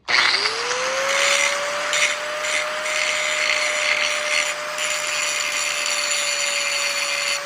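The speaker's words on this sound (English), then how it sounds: "I'm gonna hit it with the grinder and take some of this material down" A handheld grinder whines steadily as it cleans flux and scale off a 1937 Harley Knucklehead engine part, spinning up with a rising tone and then holding a constant, loud pitch throughout with gritty grinding noise.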